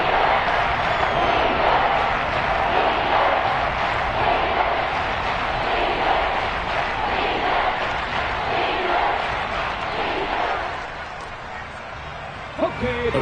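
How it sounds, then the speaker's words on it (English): Seahawks stadium crowd roaring during a red zone play in an NFL game, a dense sustained wall of noise that is loud and steady, then eases slightly near the end with a sharp sound. "This red zone is where the Seahawk crowd really makes it tough for an offense to communicate"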